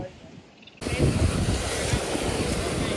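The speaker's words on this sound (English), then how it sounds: "waves." Ocean waves roll onto a black sand beach on Maui, a full roaring wash of surf with wind buffeting the microphone, starting suddenly after a quieter moment.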